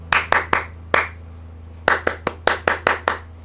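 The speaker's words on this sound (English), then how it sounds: "I'm again able to kind of count or clap my way through the rhythms" Sharp hand claps tapping out the rhythm of a bar of music, three quick claps, a pause, one more, then a steady run of about eight evenly spaced claps, close and dry with no talking.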